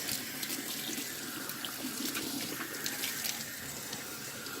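Tap water runs steadily and continuously from a faucet while conditioner is rinsed out of hair, a constant close splashing hiss with no talk.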